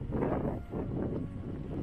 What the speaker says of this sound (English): Maybe you can hear the wind sound from here